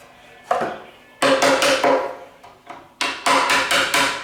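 A screwdriver is hammered into a crack in wood on an 1865 Forster & Andrews pipe organ, sharp close knocks in irregular groups with ringing, resonant decays.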